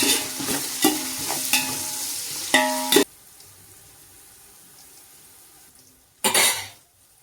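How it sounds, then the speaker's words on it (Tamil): Onions and tomatoes sauté with salt in a pan: a loud sizzle with repeated metal spoon scrapes and clinks for about three seconds, then a quiet simmer, and a final brief burst of stirring and scraping. "வெங்காயம் தக்காளி வதக்க சொல்ல பொதுவாக ஒரு சின்ன டிப்ஸு, நீங்கள் லைட்டாக சால்ட் ஆட் பண்ணி வதக்குங்க, சீக்கிரமாக வதங்கிடும்"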